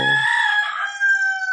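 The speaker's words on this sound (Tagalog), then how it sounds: "Pasensya na po sa manok." A chicken lets out a brief, loud, drawn-out crowing call, close by, with nothing else around it.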